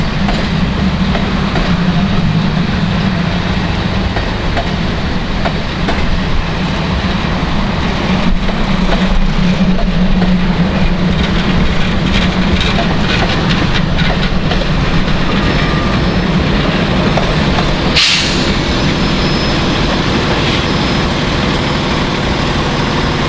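CSX mixed freight train M585, running from Nashville to Atlanta, rolls past close by for the whole stretch, a loud continuous roar of rumbling wheels and rattling cars with rhythmic clickety-clack and engine drone, one sharp bang near the end.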